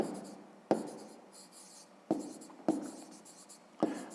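A pen writing by hand scratches softly across paper, with a quiet steady rasp broken by four sharper taps as strokes begin, close up and faint, with no voices.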